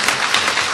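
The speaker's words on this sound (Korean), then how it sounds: "우리 크게 한번 박수로 또 하나님께 영광 돌리며 성가대에게 격려하겠습니다" A church congregation applauds the choir at an Easter dawn service, a short burst of dense, even clapping filling the room with no voices over it.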